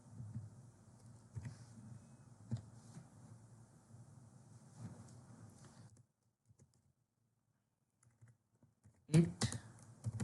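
A computer keyboard is typed on in a quiet room, with soft, close clicking key taps running for several seconds. A pause follows, then a louder cluster of clatter at the end.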